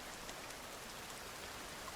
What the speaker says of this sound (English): while the rain is filling up our water containers back at home base